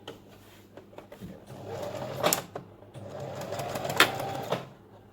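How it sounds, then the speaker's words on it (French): A sewing machine stitches the length of a folded fabric rectangle, running in two fast buzzing bursts with a brief pause between them, close and clear with faint clicks. "nous allons coudre d'un bout à l'autre, tout en longueur"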